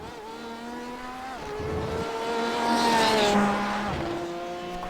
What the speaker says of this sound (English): as Finzo continues around the course in his Porsche, looking to beat that time.